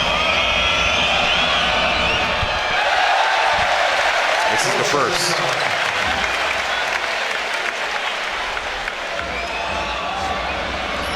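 Loud crowd noise fills a basketball arena during a Germany v Israel EuroBasket 2017 game while a player shoots a free throw, with sustained applause and cheering throughout and a commentator speaking over it.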